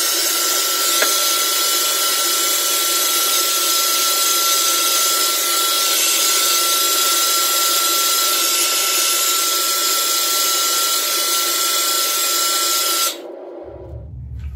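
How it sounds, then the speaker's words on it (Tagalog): A handheld hair blow dryer runs on freshly rinsed hair at home, a loud steady whooshing drone with a constant motor whine that continues evenly for about thirteen seconds before cutting off abruptly. "Ngayon ang susunod na gagawin natin, i-blower natin siya."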